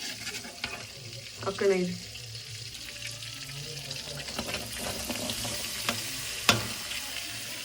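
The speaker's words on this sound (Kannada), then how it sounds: "ಈಗ ಈ ಬಟರ್ಗೆ ಕ್ಯಾಪ್ಸಿಕಮ್ ಹಾಕೋದು." Capsicum sizzles in melted butter in a pan with scraping stirs and spatula clatter, a moderate, continuous crackle close by, while someone talks over it.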